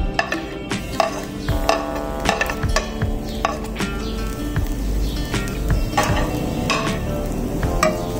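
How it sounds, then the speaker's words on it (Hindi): Ginger-garlic paste fries in two tablespoons of oil in a pan for a gravy, crackling and sizzling steadily while a spoon scrapes and stirs in irregular strokes close by. "एक पैन में 2 टेबलस्पून ऑयल लेके अब आपने इसमें इंग्रेडिएंट्स डालने शुरू कर देने हैं ग्रेवी बनाने के लिए। सबसे पहले हम इसमें अदरक और लहसुन की पेस्ट डाल लेंगे।"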